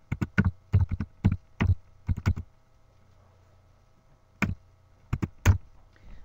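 Domain name being typed on a computer keyboard: several quick bursts of clicky keystrokes, a pause of about two seconds, then a few more taps, close and clear over a faint steady hum.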